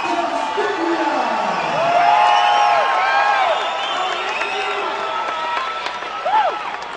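A wild arena crowd at an MMA event cheers, whoops and applauds a fighter's entrance, with a dense, sustained roar and scattered shouts throughout, while announcers talk over it.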